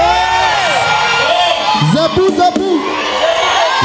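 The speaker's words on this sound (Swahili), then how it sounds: "Wapi shangwe na vigelegele tu wa Bishop" A church congregation at a prayer rally cheers and ululates, a loud mass of voices with high wavering trills rising over the crowd noise.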